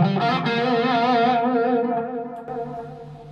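Electric guitar played through an Axe-Fx III with a phaser before the preamp and delay after, a sustained distorted chord with sweeping phase movement fading into echoing repeats.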